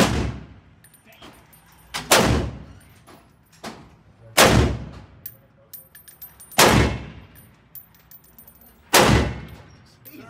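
Gunfire at an indoor shooting range, five loud, close reports spaced about two seconds apart, each with a sharp crack and a ringing echo tail, with faint background clatter between shots.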